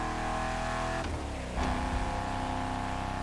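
Car engine in The Crew Motorfest racing game, a loud rev with harmonic engine drone, a brief dip and gear change near the middle, then renewed revving, with no talk.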